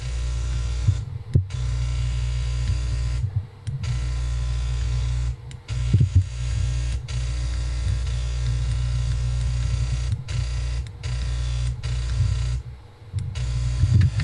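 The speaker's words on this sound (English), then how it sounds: "That's the sound of a broken pump." A broken pump in a fog machine runs with a steady mechanical buzz and hum that pulses and stutters irregularly, with brief dropouts, heard close and alone.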